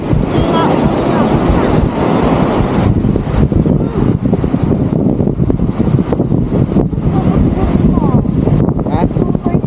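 Rough surf and strong wind at a beach in Mauban, Quezon, a loud, constant roar of crashing waves and wind buffeting the microphone throughout, with people talking faintly underneath.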